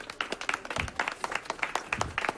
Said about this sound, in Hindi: एक बार अपने तालियां बजा दो because you guys were amazing.